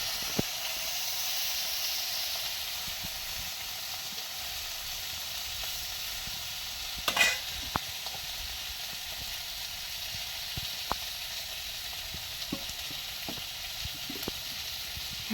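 Ribbonfish fry in a pan with a soft, continuous sizzling hiss, broken by occasional sharp pops and one louder crackling burst midway.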